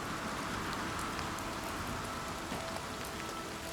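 Steady rain falls in Oblivion Remaster, an even hiss of droplets pattering on surfaces that continues without a break, fairly quiet and with no talking.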